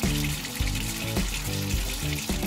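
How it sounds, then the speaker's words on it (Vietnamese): An improvised bucket shower with a watering-can head sends water splashing down in a close, continuous spatter, interrupted by a few brief pauses and bursts as the flow shifts. "Đổ nước vào trong thùng. Và vòi sen của chúng mình đã sẵn sàng."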